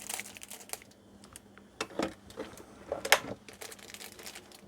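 A plastic bag of wax melts is trimmed across the top, giving close, quiet crinkling and snipping rustles in irregular short bursts with no talking.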